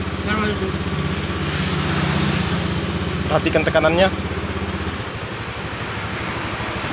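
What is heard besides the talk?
Honda Beat scooter engine starting and idling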